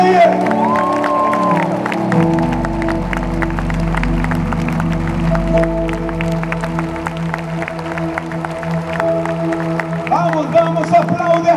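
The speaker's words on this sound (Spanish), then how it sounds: "Vamos, vamos, aplaude a Jesús." At a Christian worship concert in Lima in 2019, the audience claps steadily in rhythm over loud live music and singing.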